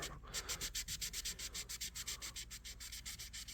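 Steady, rhythmic back-and-forth strokes of hand sanding on the blade of a Boker USA electrician's knife, close up and continuous, with no voices.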